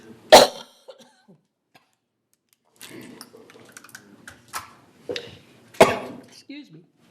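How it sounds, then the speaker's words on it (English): A dry cough from a person at a community meeting: a few scattered sharp coughs with quiet gaps between them, close to the microphone, mixed with faint murmuring and small handling noises. "And I have a dry cough."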